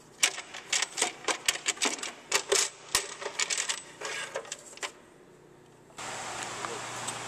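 Bolts are loosened and pulled from the timing cover of a 2002 Ford Focus 2.0L DOHC engine, with a run of close metallic clicks and clinks of the ratchet and parts, then a quiet pause and a steady background hiss.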